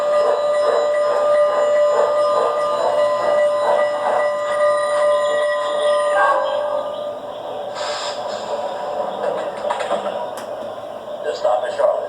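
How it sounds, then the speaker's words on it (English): A Southern Railways locomotive runs past at a railway museum show in Strasburg, giving a steady loud rumble with sustained horn-like tones for about six seconds, then a continuing mechanical roar while a public-address voice speaks over it. "that's a Southern Railways locomotive"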